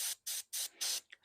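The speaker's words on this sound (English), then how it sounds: "So just a little silver spray on his helm." Airbrush spraying silver paint onto the helmet of a Warhammer Ultramarines miniature, four short, close hissing bursts in an even rhythm followed by a softer sputter, faint overall.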